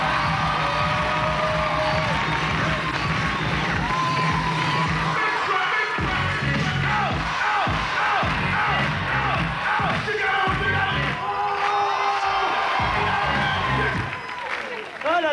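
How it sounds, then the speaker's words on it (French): A French television studio audience applauds and cheers as a guest arrives on set, loud clapping with whoops and shouts that thins out partway through while voices talk over it. "Mesdames, messieurs, on peut applaudir Jamel"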